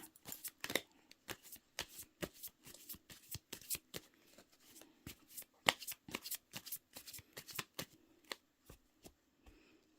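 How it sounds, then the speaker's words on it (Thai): Tarot cards shuffled and cut by hand, a quick run of crisp riffling flutters and sharp card slaps, close up and fairly quiet, with no talk. "ขอเป็นตัวแทนสับไพ่ตัดไพ่คนเกิดวันศุกร์ค่ะ"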